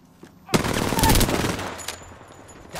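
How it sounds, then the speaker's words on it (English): Gunfire in Apex Legends starts abruptly with a loud, rapid burst of automatic shots that lasts about a second, then tails off into scattered fainter shots. "Listen up, I'm getting shot at."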